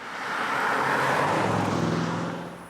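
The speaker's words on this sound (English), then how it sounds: "Oh yes, so that's a V8 TFSI 4 litre" Audi S8 with a 4-litre V8 TFSI engine producing 571 horsepower, a steady loud engine roar that swells and fades over a few seconds like a car passing close by, with no talking.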